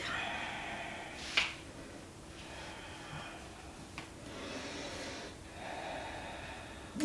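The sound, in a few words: exhaling breath during stretching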